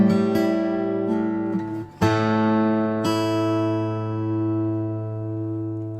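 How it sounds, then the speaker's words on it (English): An acoustic guitar rings out with a big, resonant tone: a strummed chord sustains and decays, there is a brief pause, then another chord is struck and left to ring long and full. "if you're looking for that big, super resonant sort of sound, it just does that remarkably well"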